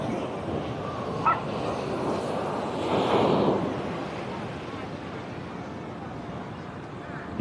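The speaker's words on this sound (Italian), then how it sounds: "Il mare oggi fa sentire la sua potenza." Rough Adriatic Sea waves breaking on a pebbly beach, a continuous wash of surf swelling louder around the middle, mixed with wind buffeting the microphone and a voice speaking over it.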